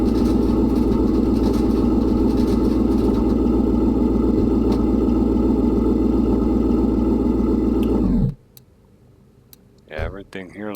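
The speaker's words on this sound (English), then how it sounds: "Boy, that engine sounds nasty." Car engine running in the Car Mechanic Simulator video game, a loud, rough, continuous rumble that cuts off abruptly after about eight seconds, followed by brief faint sounds.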